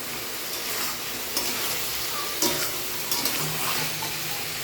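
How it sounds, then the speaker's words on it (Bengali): Vegetables stir-fried with spices in a pan, a steady close sizzle with scraping stirs and occasional spatula knocks throughout. "আমার মশলা দিয়ে সবজিটাকে ভালো করে কষিয়ে নিয়েছি"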